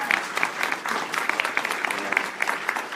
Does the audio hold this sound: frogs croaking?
no